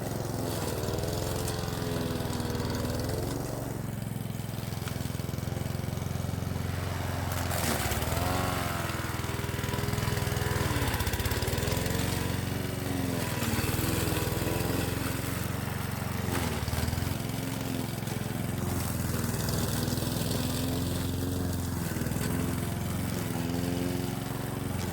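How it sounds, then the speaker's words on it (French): A lawn mower engine runs loud and continuous while shredding garden clippings into mulch, its drone dipping and surging as it chews through the material over about twenty-five seconds. "Donc je vais passer la tondeuse dessus"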